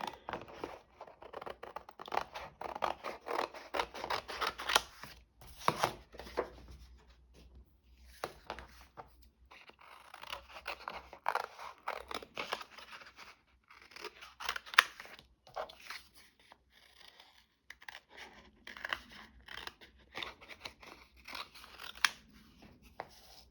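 Scissors snip through paper while postcards are made for a junk journal, a close series of crisp cuts and rustles in irregular bursts with short pauses, fairly quiet and without talk.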